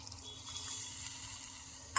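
A spoon stirs green tomato curry in a pan on the stove, soft scraping and faint bubbling, ending with a short sharp clink of utensil against the pan.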